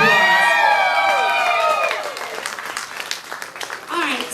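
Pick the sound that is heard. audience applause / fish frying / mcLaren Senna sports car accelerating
audience applause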